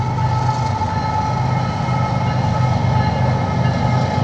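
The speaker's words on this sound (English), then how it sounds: "Oh, train's coming. A train." A train passes near a rainy campground, a loud steady rumble of rail cars rolling by throughout, with a faint tonal whine riding over the heavy low roar.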